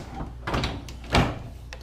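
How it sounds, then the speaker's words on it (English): A Samsung refrigerator drawer on rollers being pulled out, giving a couple of short knocking and sliding bursts close by, the loudest thump near the middle, with no talking. "how to take out this drawer"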